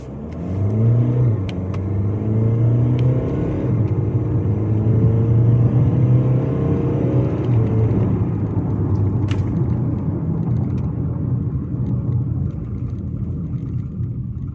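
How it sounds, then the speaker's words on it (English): Loud and close, a Honda CR-V 1.6 diesel in sport mode with traction control off accelerates hard, its engine note climbing steadily and then easing into a sustained rumble. "Let's see how this thing accelerates."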